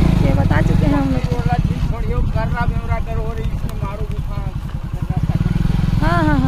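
A motorbike is ridden along the route to Mado Cave in Jashpur District. Its engine drones steadily under wind buffeting, while voices talk over the ride.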